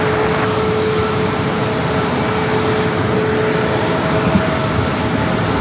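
A six-year-old Boeing 737 MAX 8 takes off at San Diego airport, a broad continuous jet roar with a faint steady whine, heard from a distance and holding even loudness throughout.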